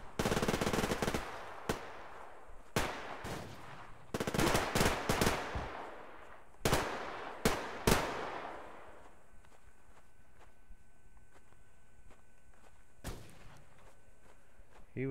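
Bursts of automatic gunfire and single shots in the online shooter Survarium, loud and close for the first eight seconds, then a long quieter stretch with only a couple of distant reports.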